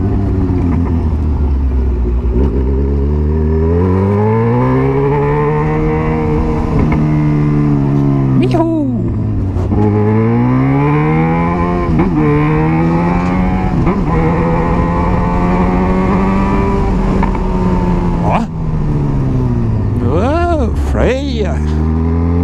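Yamaha XJ6 motorcycle fitted with a Jeskap exhaust, ridden on the road with a loud, close engine note that rises and falls through repeated revving and gear changes, with sharp throttle blips near the end.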